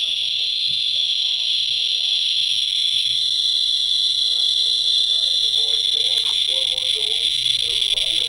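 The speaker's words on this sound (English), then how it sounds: "I selected the Inspector EXP Plus. Again, pretty crazy sounding up close" An Inspector EXP Plus radiation detector held up close to a Tc-99m source gives a dense, high, continuous buzz of rapid counts, with a faint voice murmuring underneath.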